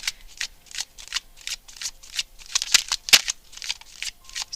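Tarot cards being shuffled for a reading, a run of quick crisp riffling bursts repeating in an irregular rhythm, close and clear with no talking.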